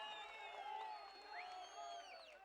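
Crowd at an outdoor political rally in Dalhousie cheering and clapping, a steady wash of voices with scattered whoops and rising shouts running throughout.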